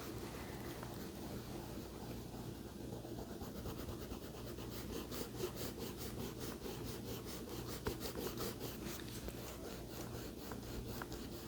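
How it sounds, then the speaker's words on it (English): An eraser rubs pencil marks off paper in a continuous, faint scratchy scrubbing, with quicker back-and-forth strokes later on. "Now I am going to erase my pencil marks"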